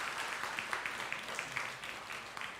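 Congregation at a Taiwanese-language Sunday church service clapping in blessing: steady, moderately faint applause from many hands, a continuous patter with no talk over it.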